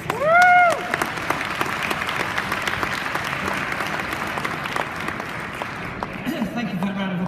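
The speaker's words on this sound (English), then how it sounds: "Thank you for that round of applause." An audience at a talk applauds in a steady, fairly loud wash of clapping that continues throughout. A rising whistle cuts through near the start, and voices murmur faintly beneath the clapping.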